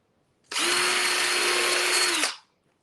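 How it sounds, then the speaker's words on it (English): A power drill whirs loudly in one continuous burst of about two seconds, drilling a hole in scrap wood, starting and stopping abruptly, close by and alone. "I'm going to drill a middle hole right here."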